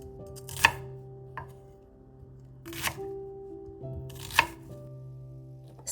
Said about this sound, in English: Then chop the shallot into small pieces.